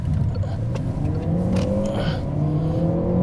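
A 2022 Peugeot 508 PSE estate's engine revs up as it accelerates hard out of a tight bend, pitch climbing steadily over a continuous loud rumble.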